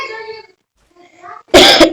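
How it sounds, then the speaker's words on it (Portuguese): A person with a cold coughs sharply and loudly near the end, right after a stretch of brief talk and a short pause. "Meio resfriado, me desculpe as tosses aí"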